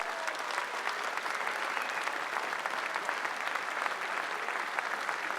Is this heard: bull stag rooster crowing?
no